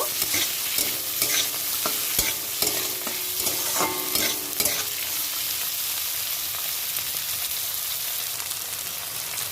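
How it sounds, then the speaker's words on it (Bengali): Mixed vegetables with green peas stirred in hot oil for a veg dal, a steady close sizzle broken by repeated scraping spoon strokes in the first half, then a smoother continuous fry with no talking. "সব সবজিগুলো আমার তেলের মধ্যে দেওয়া হয়ে গেছে ভালো করে একটু নেড়ে ফেড়ে নেব"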